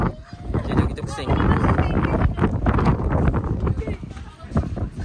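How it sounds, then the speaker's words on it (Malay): Strong wind buffets the microphone at the top of Menara 188 tower in Kuantan, a loud continuous roar with gusty surges, and a voice talks beneath it. "Angin memang kuat"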